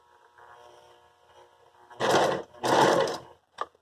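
A sewing machine fitted with a weighted presser foot runs in two short bursts of stitching once the pedal is pressed, loud and close, with a brief pause between and a faint click afterward.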